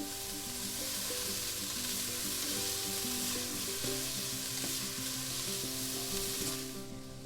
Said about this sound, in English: You can probably hear the sizzling and popping